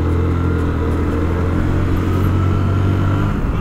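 Two motorbikes ride fast along a road, their engines producing a steady, close, loud drone that holds unbroken throughout with no one speaking.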